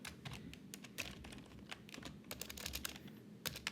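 Someone types SQL code on a computer keyboard: quick, irregular bursts of sharp key clicks, close and fairly quiet, with no talking.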